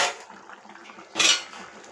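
A metal pot lid lifts with a clatter, then a spoon scrapes and stirs thick curry in the pot, with a sharp clank near the middle; close and fairly quiet.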